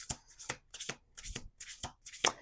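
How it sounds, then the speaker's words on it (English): Oracle cards shuffled in quick repeated riffles, a series of crisp ruffling bursts close by with short pauses between them, no talking. "We're going to do 2 more shuffles."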